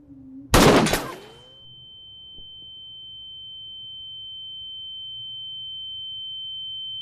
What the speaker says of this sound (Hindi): हिंदुस्तान की यहाँ से निकल के गई गोली